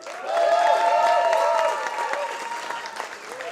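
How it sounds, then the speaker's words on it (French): A crowd at a tenth-anniversary celebration breaks into applause with some cheering, clapping swelling quickly and continuing over music or sustained tones in the background. "Je vous demande un tonnerre d'applaudissements pour Monsieur Jacques Ramacle"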